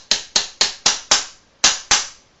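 A screwdriver is knocked hard against pins on an airsoft M16 barrel group, giving seven sharp, close metallic taps at a steady, slightly uneven rhythm with brief ringing decays.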